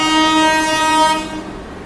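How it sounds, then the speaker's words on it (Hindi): A goods train passing a railway station on a scenic Odisha rail route sounds its horn loudly and steadily nearby, then fades slightly toward the end. "अच्छा उस तरफ कोई ट्रेन आ रही है, वो गुड्स ट्रेन है"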